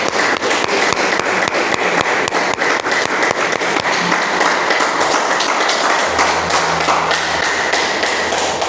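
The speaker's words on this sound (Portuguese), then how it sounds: "Pode aplaudir o Senhor." A church congregation applauds, a dense, steady wash of many hands clapping throughout, with a low voice or tone entering faintly toward the end.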